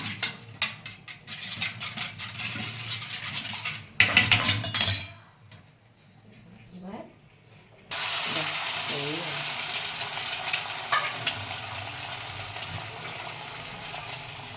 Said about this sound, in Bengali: ডিমটা একটুখানি নেড়ে নিতে হবে